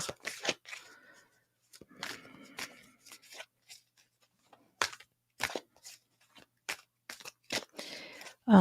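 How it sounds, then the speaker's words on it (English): Intermittent crisp riffling and snapping of cards being shuffled close by, in short bursts separated by quiet pauses. "okay, I'm just going to shuffle."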